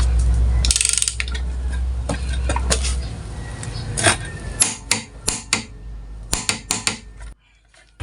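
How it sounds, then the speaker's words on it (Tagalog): A torque wrench tightens the magneto nut on a Mio Sporty engine during assembly: metallic clatter and handling noise, then a string of sharp, close ratcheting clicks in a fairly regular rhythm. "At pwede na nating higpitan yung nut ng ating magneto gamit itong ating torque wrench."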